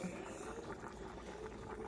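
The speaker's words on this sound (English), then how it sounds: "these beans should have been boiling about 45 minutes to an hour" Red beans boil in a pot with a faint, steady bubbling and simmering that continues evenly throughout, soft and close.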